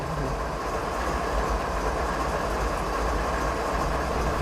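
A very long train running in a train simulator game, a loud continuous rumble with steady rolling clatter and engine drone, no talk over it.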